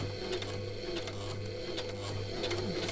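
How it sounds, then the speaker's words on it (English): A sewing machine starts stitching a fabric face mask with a short back stitch, giving a steady mechanical hum with light rhythmic ticking, close and even, no voices. "So we've just started sewing there, and then we do a little back stitch just to secure that."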